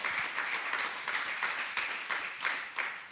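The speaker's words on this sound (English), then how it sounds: "I give the speaker a round of applause" A conference audience in a large lecture hall claps for a speaker who has just finished, producing dense, continuous applause with rhythmic surges that stays loud and steady throughout.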